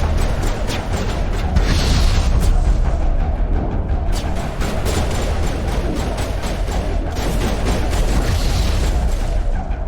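A grenade blast in the Mass Effect video game, heard as a loud, sustained roar of booming noise lasting several seconds with no clear separate impacts.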